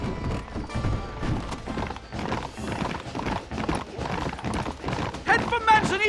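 Horse hooves clip-clop steadily in the video game Red Dead Redemption under busy game sounds and talking voices, with a higher-pitched cry rising near the end.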